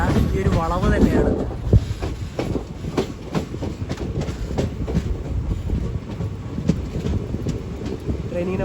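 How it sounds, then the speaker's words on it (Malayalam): Tambaram Mangaluru Express pulling into Kuttippuram station on a curve, a steady loud rumble with rhythmic wheel clicks, heard from on board with wind buffeting the microphone. "ട്രെയിൻ ഇതാ കുറ്റിപ്പുറം സ്റ്റേഷനിലേക്ക് എത്തിക്കൊണ്ടിരിക്കുകയാണ്."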